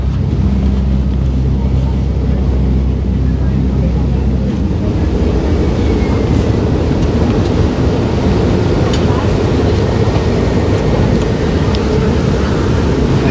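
Strong wind buffets the microphone on the open back deck of a ferry on Sydney Harbour, a loud, constant roar mixed with low engine rumble and water noise, with no voices.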